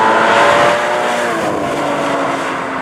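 A Porsche Cayman GT4 engine drones steadily while driving on a back road, a loud sustained in-cabin hum that eases slightly after the first half second, with no talking over it.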